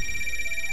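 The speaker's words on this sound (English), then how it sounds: "Phone call again." A telephone rings during a Zoo Tycoon game session, a steady electronic trilling tone heard clearly and alone for a short moment.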